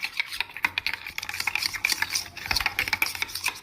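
Salad being mixed by hand with mayonnaise and Italian dressing in a home kitchen, giving a close, steady run of wet stirring, scraping and soft clicks of a utensil against the bowl, with no talking.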